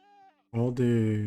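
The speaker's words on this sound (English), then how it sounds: "So now we have a bunch of screaming goats." Screaming goats in Minecraft let out a loud, harsh, wavering bleat after a fainter tonal cry, close and sustained.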